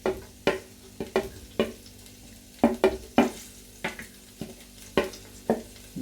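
Ginger and garlic frying in a pan for sarson ka saag, with a steady background sizzle broken by regular stirring scrapes and clinks of a utensil against the pan, close and moderately loud, with no talking.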